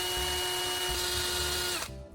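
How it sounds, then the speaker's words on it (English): A power drill spins a soldering bit pressed against sandpaper, giving a steady loud high-pitched whine with grinding texture that cuts off abruptly near the end. "By pressing it against the sandpaper while it rotates, I can achieve a perfectly smooth and consistent surface"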